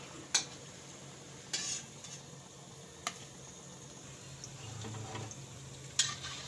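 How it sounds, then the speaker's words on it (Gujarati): Vada pav fritters fry in hot oil with a soft, steady sizzle, punctuated by a few sharp clinks and stirring scrapes of a utensil against the pan. "આ રીતે આપણે સરસ બધાય તળી લેવું."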